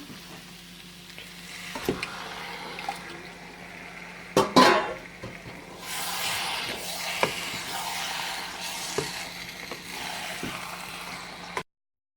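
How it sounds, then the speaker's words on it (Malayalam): Chicken frying and being stirred in a pan for Kerala-style curry, a steady sizzle punctuated by scrapes and knocks of a spoon against the pan, with a louder burst of hissing midway. "ഇനി ഇതിലേക്ക് കഴുകി വൃത്തിയാക്കി വെച്ചിരിക്കുന്ന ചിക്കൻ ഇട്ട് ഇറക്കുക."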